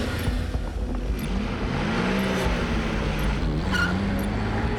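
A car in a driving test under rough, heavy braking, heard from inside as a steady low engine drone with shifting pitch and a few brief clunks and squeaks, close and continuous.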